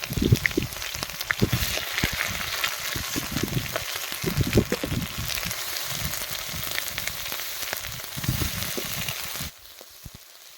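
A paste of ground onion, ginger, garlic and cumin hits hot oil in a frying pan, giving a loud, steady sizzle that crackles throughout and drops away sharply just before the end.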